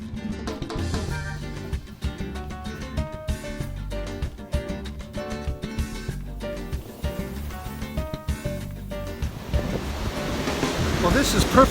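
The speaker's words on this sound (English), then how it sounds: "The waves are wonderful, the water is cool, and the beach is fine." Ocean waves roll onto a beach at Mazatlan, a continuous surf wash under tonal music, building toward a louder rush at the end.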